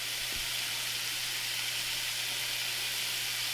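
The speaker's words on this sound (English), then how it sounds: "cooking steak" Steak sizzles in a hot pan, giving a steady, dense hiss with no breaks and a faint low hum underneath.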